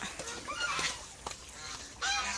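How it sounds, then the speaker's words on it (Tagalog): A goose honks a few times in short nasal calls on a farm, fairly close, with a louder burst of honking at the end. "Gansa."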